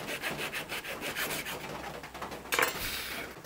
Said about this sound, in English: I'm gonna go ahead and cut this fretboard off at the nut. I'd rather do this with the little razor saw than I had on the bandsaw.